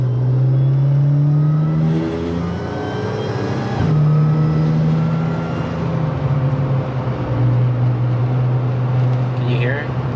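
An Audi S4 B8.5 with a worn wheel bearing drives along, its steady low hum and drone running under road noise for the whole stretch, with a brief rise in engine pitch partway through.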